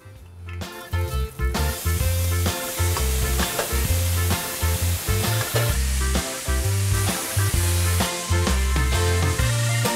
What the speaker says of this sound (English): we are going to head to the stove and fry it